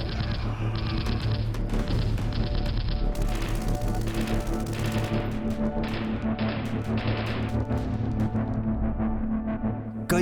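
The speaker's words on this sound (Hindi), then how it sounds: "गोलियां चल रही थी।" Gunfire rings out in a war scene from the 1999 Kargil conflict, with repeated sharp shots and bursts over a dense, loud bed of dramatic music and rumbling.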